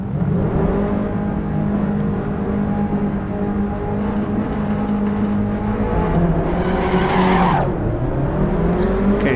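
Mini race cars in a VR racing game, a steady loud buzz of engines whining and revving together, with tire squeals and a skid near the end and no talking.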